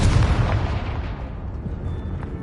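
A Confringo fire spell blasts in the video game Hogwarts Legacy, a loud booming explosion with a heavy low rumble that decays over a couple of seconds.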